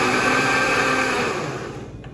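A kitchen blender whirs steadily, mixing coconut cake batter made with fresh coconut, loud and continuous before easing slightly near the end, with no talking.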